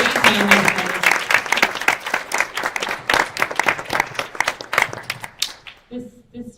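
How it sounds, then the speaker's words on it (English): Applause at a bioeconomy panel: a dense, steady round of clapping from a roomful of people, fading out toward the end, followed by a voice starting to speak. "Can we please give a round of applause?"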